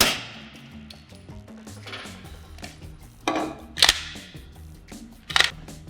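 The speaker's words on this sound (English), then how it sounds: "we're going to try it with a piston assembly, the way you're supposed to shoot a silencer on a handgun like this" Two sharp suppressed handgun shots with a silencer piston assembly fitted, each a brief crack over a low hum of background noise, close and clear with no talk.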